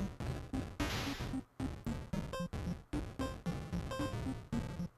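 Family Pinball chiptune music played on an NES instead of a Famicom, so the tone comes out wrong: bright, buzzy square-wave notes in a quick, choppy rhythm, faint and alone.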